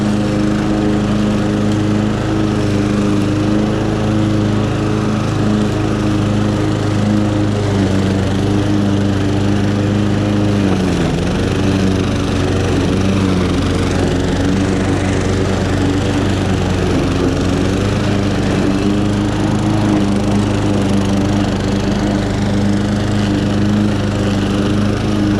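A Honda HRX 537 lawn mower cuts grass in a steady, loud, continuous engine drone that barely varies in load, running alone without any voices.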